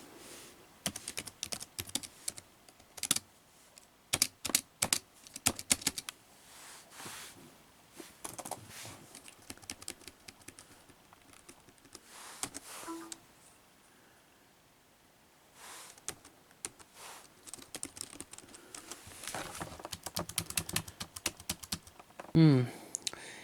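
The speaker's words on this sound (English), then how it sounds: "See, I've typed something on the screen." Keystrokes clatter on a computer keyboard attached to a newly built PC, coming in irregular bursts with short pauses and a quieter gap midway, close to the microphone.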